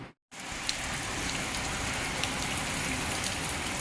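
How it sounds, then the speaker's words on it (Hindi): Heavy monsoon rain pours down steadily after a brief cutout at the start, a dense, close hiss of drops on surfaces with no voices. "बहुत खतरनाक बारिश हो रही है एकदम"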